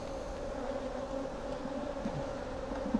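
Bees hum steadily around an opened hive as frames of stores are lifted out, a dense close drone with occasional louder passes of individual insects near the ear.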